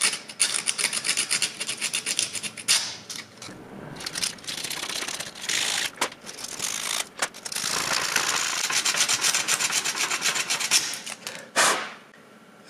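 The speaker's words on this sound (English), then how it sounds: "I'm just going to take a piece of sandpaper and scrub that surface a little bit" Sandpaper scrubbing a worn metal contact inside a common household device, with bursts of close, dry rubbing and rasping strokes repeated at an uneven pace and brief pauses between them.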